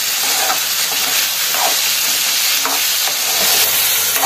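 Ivy gourd sautéing with coarse rock salt in a hot pan gives a loud, steady sizzle and hiss, with occasional stirring scrapes breaking through.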